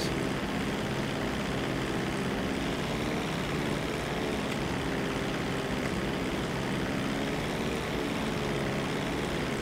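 A Dodo propeller plane in a GTA video game drones with a steady, loud engine hum that holds constant throughout, with no talking.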